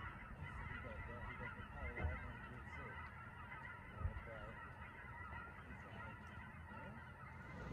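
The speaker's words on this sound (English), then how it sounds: "So we don't know if those were ducks or geese" Distant honking of geese or ducks, several birds calling in overlapping bursts over an outdoor background hiss, with a couple of louder close thumps.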